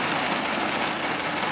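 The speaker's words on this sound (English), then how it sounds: "I could sit in the car with the rain all day." Rain falls on a parked car in a steady, dense patter, a constant broadband hiss with no pauses or voices.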